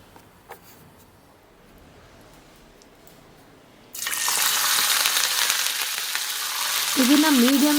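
Marinated cauliflower dropped into hot oil on a medium-low flame, a quiet start giving way to a sudden loud, dense frying sizzle that keeps bubbling steadily close by.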